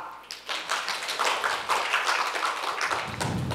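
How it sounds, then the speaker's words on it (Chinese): A lecture audience claps at a cancer talk after being urged to applaud, dense overlapping hand claps filling the room at steady volume for several seconds, fairly close and with no voices over it. "鼓掌啊！"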